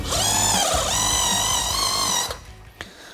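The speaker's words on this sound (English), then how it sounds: "Just a quick polish on these little bits, just so you can get the marks off." A handheld power polisher whirs steadily on a car panel after paintless dent repair, a loud high whine with slight pitch wobble that cuts off abruptly, followed by a few small knocks and handling sounds.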